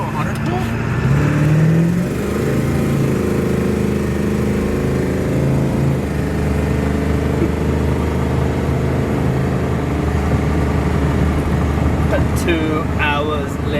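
A 12 valve Cummins diesel truck engine running and revving, a loud continuous drone with rising pitch sweeps, under intermittent talking.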